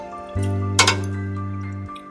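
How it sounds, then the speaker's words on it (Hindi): Water poured from the side into a pan where meatball kofta curry is cooking, giving a short sizzling splash and a clink over a steady low hum of the stove. "थोड़ा सा पानी भी एक साइड से डाल देती हूँ थोड़ा सा"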